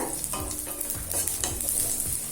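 Small shallots sizzling steadily in a pan for a chutney, with a bright continuous fry hiss and soft periodic scrapes of a spoon stirring through them, close and alone.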